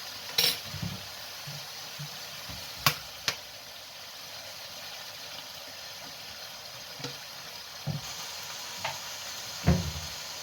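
Vegetables fry in oil in a pan, giving a soft, steady sizzling hiss broken by occasional clinks and knocks of stirring, heard close and fairly quiet with no talking.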